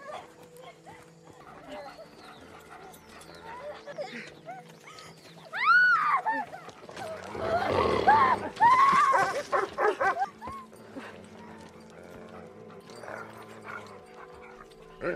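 A pack of wild dogs barks and yelps in a film scene, with several overlapping barks swelling loud in the middle amid rushing movement, fading to scattered yips.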